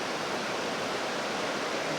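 Water pours steadily out of a spring in Missouri, a dense, even rushing hiss with no breaks, close and fairly loud.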